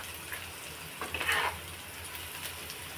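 Onion sautéing in a pan, a faint, steady low sizzle with a brief burst of brighter crackling and stirring partway through.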